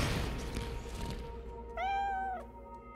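Cartoon cat in an animated episode gives a single clear, drawn-out meow, close and loud, over a low background bed of score and ambience.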